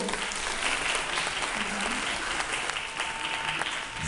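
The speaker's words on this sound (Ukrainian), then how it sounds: "Оплески для наших моделей" An audience at an embroidered shirt fashion show applauds the models with dense, continuous clapping that holds at a steady level throughout.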